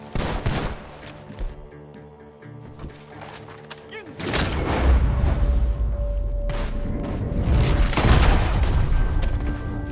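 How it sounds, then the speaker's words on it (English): Gunfire from a barn in the video game Red Dead Redemption 2, several sharp shots and booming blasts spread unevenly over the span, with dense rattling bursts and a rumbling background in the later part. "Gunshots are coming from that barn."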